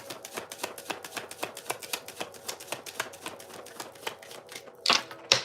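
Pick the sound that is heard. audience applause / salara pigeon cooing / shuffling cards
shuffling cards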